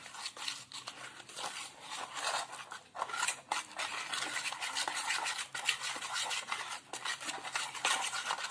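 Spoon scraping and stirring through thick batter in a bowl as water is mixed in for a masala lemon pabda fry, rapid close rhythmic scratchy strokes continuing steadily without talk.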